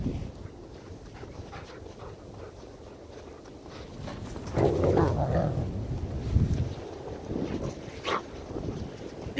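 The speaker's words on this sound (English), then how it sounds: "As you might be able to hear the roar of the wind through the trees" Strong 50-mile-an-hour wind roaring through trees on a high ridge above the Mississippi River Valley on a cold dawn, a steady broadband rush that swells midway, with dogs faintly panting and whimpering nearby.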